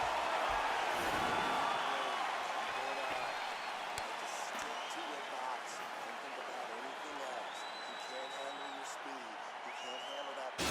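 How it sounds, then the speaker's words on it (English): A video-game arena crowd at a UFC 4 heavyweight bout between Blaydes and Lesnar keeps up a continuous roar of applause and cheering between rounds, while commentators talk over it. "So the crowd voicing its appreciation after that round"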